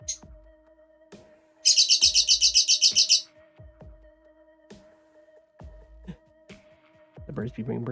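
Bird chirps come as a fast, bright trill of repeated tweets near the start of a game stream, with a faint steady electronic hum and some clicks in the background, followed by brief quieter chirps.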